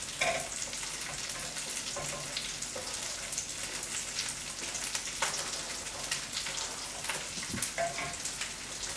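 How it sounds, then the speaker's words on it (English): Peppers and onions sauté over low heat in a pan, a continuous crackling sizzle with scattered pops, close up and steady, with no talking. "Now the peppers and onions are going to go ahead and just saute over nice low heat."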